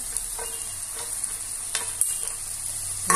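Tomato, potato and carrot fry in a pan for a chicken and vegetable kurma, with a steady close sizzle and a few soft scraping strokes of stirring and no talking.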